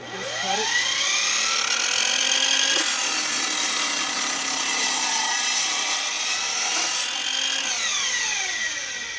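A tool cutting through wood for a tree limb prop, with a loud continuous whine that holds steady for several seconds, its pitch rising and falling slightly as the cut proceeds.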